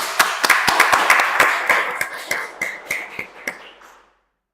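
Audience applause follows a finalist's performance at a school competition final, a burst of many hands clapping with a few sharp, louder claps standing out, tapering off and stopping abruptly after about four seconds.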